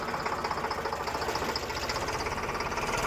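A farm tractor's engine running steadily during gram sowing, with a rhythmic chugging throb and rattling vibration, close and loud with no talk over it.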